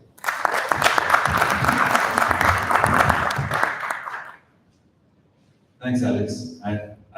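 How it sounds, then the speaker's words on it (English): A small tech meetup audience claps with a dense patter of hands for about four seconds, then the clapping stops and a voice begins speaking after a short silence. "Give him a round of applause"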